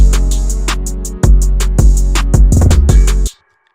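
A punchy electronic kick with deep 808 bass, polarity flipped at the end, plays a short pattern, several booming hits in a row, then stops abruptly into silence.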